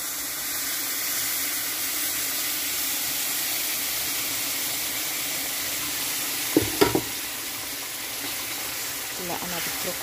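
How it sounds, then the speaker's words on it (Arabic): Caramelized sugar-and-water syrup pours into a hot pan of melted ghee for a quick Arabic sweet, giving a loud, steady sizzle throughout with a few brief clinks of a utensil. "هلأ بهالأثناء رح نضيف نحنا هيدا اللي عملناه، السكر والماي اللي كرملناه"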